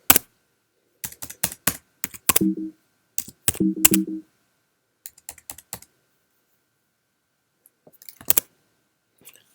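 Keys clatter on a Mac keyboard as a Terminal command is typed, bursts of crisp clicks separated by pauses, close and alone with no voice.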